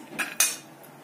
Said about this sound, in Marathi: या ठिकाणी कढई गरम करण्यासाठी ठेवलेली आहे।